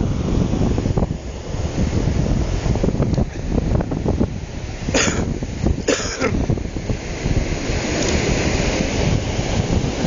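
Ocean waves roll in on a beach, a steady broad wash of surf mixed with heavy wind buffeting the microphone.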